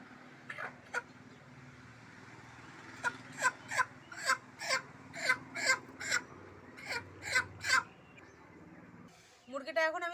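A country chicken about to be slaughtered for cooking gives a run of about a dozen strained, evenly spaced squawks, close and fairly loud, ending in a brief flurry of movement.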